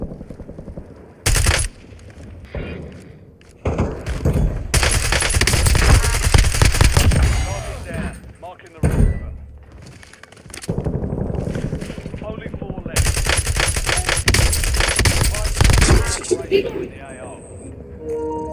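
Bursts of gunfire from the online shooter Call of Duty Warzone crackle in loud, dense stretches separated by brief pauses, with a player talking over the action.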